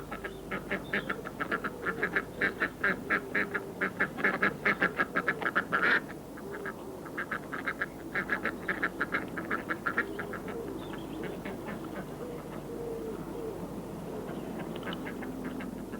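A flock of ducks, with tame decoy ducks leading wild ones, quacking steadily in rapid, overlapping calls, fairly close, then trailing off into a quieter background murmur.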